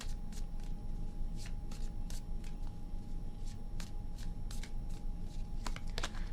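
Tarot cards being shuffled by hand, a run of crisp riffling bursts and flicks repeating at close range against a quiet background.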